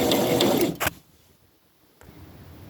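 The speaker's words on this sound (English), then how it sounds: "So I'm going to try to sew these now." A sewing machine runs in a loud, steady burst while stitching sleeves for a small doll shirt, stops abruptly after under a second, then leaves near silence with a faint click.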